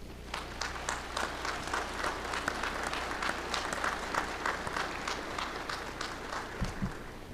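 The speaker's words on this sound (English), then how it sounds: "Let's have a round of applause, please." A crowd at a Navy Officer Development School graduation ceremony gives a round of applause, a continuous wash of many hands clapping, heard somewhat distant and moderately quiet.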